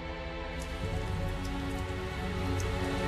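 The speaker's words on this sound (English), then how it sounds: "Oh, it's beginning to rain." Steady rain in Tales of Zestiria patters on a surface, a soft continuous hiss with scattered drops, fairly quiet and without voices.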